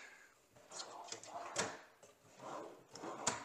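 Drawers in a newly built wooden shop storage cabinet slide open and shut, giving soft thuds and a couple of sharper knocks at a distance, quiet and spaced apart.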